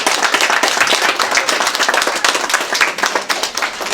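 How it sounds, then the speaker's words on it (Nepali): A crowd claps steadily at a village community hall's foundation day celebration. The clapping is loud, close and sustained, an even patter of many hands throughout. "ताली जोरदार ताली बजते हुए जा"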